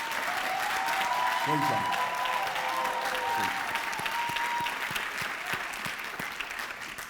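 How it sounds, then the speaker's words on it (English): Sustained audience applause for graduates at a master's hooding ceremony, steady dense clapping throughout with a voice speaking briefly over it. "So can we give every one of these graduates a round of applause?"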